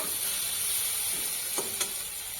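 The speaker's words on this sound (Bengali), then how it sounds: "শাকগুলি ভাজা ভাজাও হয়ে গেছে" Water spinach greens frying together with potato and onion give off a steady, close sizzling hiss, with two brief stirring scrapes near the end.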